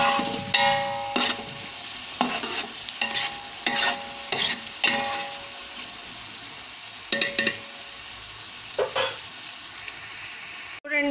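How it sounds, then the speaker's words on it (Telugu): Onions and green chillies fry for a home-style chicken curry while a spoon scrapes and stirs the pan in repeated bursts, a close sizzle running underneath, with no one talking. "ఈ ఉల్లిపాయలు పచ్చిమిరకాయలు బాగా వేగాలండి."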